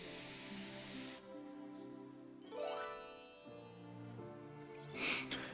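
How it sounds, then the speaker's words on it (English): Identification spray applied to an old necklace in a video game: a spray hiss with chiming, tinkling game effects and tonal dings over background music, ending in a brief louder burst. "Let's use identification spray on it."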